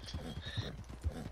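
Rhythmic clip-clop of horse hooves with a short whinny, brief and close, from the video game Red Dead Redemption 2.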